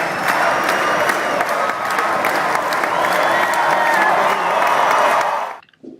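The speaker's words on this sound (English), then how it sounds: "this clip is what happened in the crowd spontaneously as they chanted their little victory chant" A basketball crowd at an SDSU versus BYU game roars and chants together in a dense, steady wall of voices with clapping, loud and sustained for over five seconds before cutting off abruptly.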